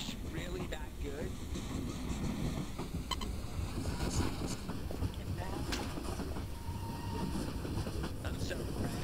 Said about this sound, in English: I'm still on this train though, I didn't get knocked off yet.